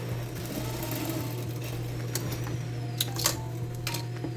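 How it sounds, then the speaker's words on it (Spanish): Sewing machine running a straight seam along the fly area of men's jeans, a steady mechanical hum with a low motor drone throughout and a few brief louder clicks near the end, no talk. "Pongo al principio del inicio del tiro y paso la costura recta allí."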